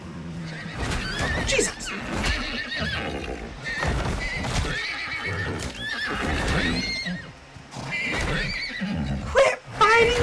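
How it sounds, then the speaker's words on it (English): Horses in the survival video game Icarus neigh and whinny repeatedly while fighting, loud and close with scattered hoof clatter, as someone shouts over the commotion. "It's my stupid horses that literally crossed the water to fight with something."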